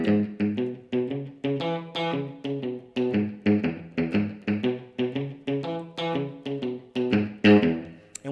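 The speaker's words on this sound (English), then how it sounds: "So the bass line is a shuffle style bass line that sounds like this." Electric guitar plays a shuffle-style blues bass line riff in a 12-bar blues: steady, chugging notes in a swinging rhythm throughout, close and clear with no talking.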